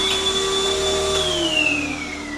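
A household vacuum cleaner runs steadily with a loud motor roar and a high whine that slowly drops in pitch partway through, alone with no voices.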